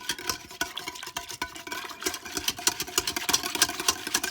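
Greek yogurt being whisked smooth in a pot, a busy continuous scraping and clicking of the whisk against the metal with quick irregular strokes, fairly close and steady throughout, no voices.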